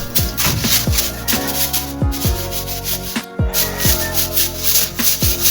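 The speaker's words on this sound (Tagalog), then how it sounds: "Gumamit na rin ako ng mahabang plastic broom para maabot ko yung kataas-taasan ng carbonizing area." A long plastic broom scrapes in repeated rhythmic strokes across a charcoal carbonizing area, close and loud, with short pauses between sweeps.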